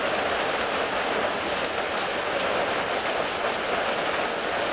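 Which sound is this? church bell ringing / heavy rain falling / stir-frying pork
heavy rain falling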